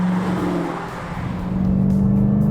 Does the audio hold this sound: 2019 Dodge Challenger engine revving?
yes